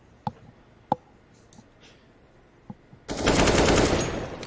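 Several sharp, isolated AWP sniper rifle shots crack in a Counter-Strike match, spaced unevenly over quiet game ambience, then a dense, loud burst of rapid gunfire and noise takes over at the end.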